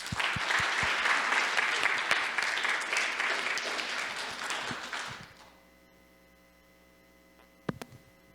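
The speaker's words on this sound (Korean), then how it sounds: "이런 새로운 목자님께 박수 한번" Church congregation clapping for newly appointed cell-group shepherds at a worship service: a steady burst of applause that stops abruptly after about five seconds, leaving low hum and a single sharp knock near the end.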